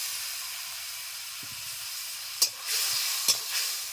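Fried potatoes sizzle in a pan with cumin, coriander and chili spice powders, a steady close hiss broken by a couple of sharp clinks and scrapes near the middle.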